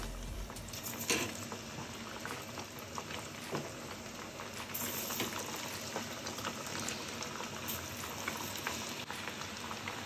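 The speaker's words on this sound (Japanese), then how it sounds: "パン粉つけましたのでこれから揚げていきます" Breaded food deep-frying in hot oil at about 190 degrees, a dense continuous sizzle and bubbling crackle heard up close, with no talking.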